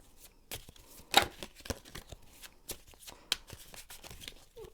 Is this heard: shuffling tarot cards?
yes